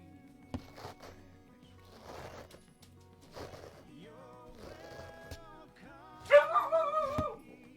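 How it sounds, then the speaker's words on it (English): A dog barks toward an open door at home on a cold day: a few short, fairly faint barks are spread out with pauses between them, followed by a louder vocal burst near the end. "I was hoping you wouldn't have the door open so the dog barks"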